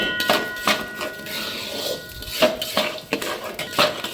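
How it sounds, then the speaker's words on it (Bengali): Moong dal stirred in a metal cooking pot, a series of clanking scrapes and knocks of a spoon against the pot at an uneven rhythm, close by. "মুগ ডালটা একটু নেড়েই আমি চালটা দিয়ে দেবো"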